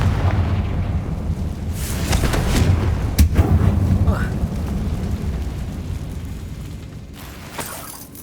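Confringo fire spell from Hogwarts Legacy bursting in a dim tomb: a few booming blasts and crackling impacts, a sharp crack mid-clip, rumbling under game sounds and fading toward the end.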